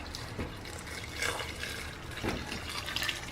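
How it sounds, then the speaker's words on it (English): Hot water pours steadily into a pot for cooking chicken gizzards, a continuous splashing fill with small gurgles, close and fairly loud. "And then I'm going to add some hot water."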